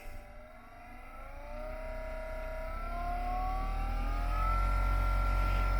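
A PWM-controlled 12 volt electric fan for an old truck conversion spins up, its whirring tone gliding steadily higher and growing louder over a few seconds, close by with no talk.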